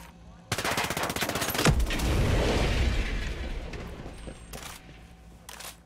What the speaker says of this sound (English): Let's try opening up with this with the machine gun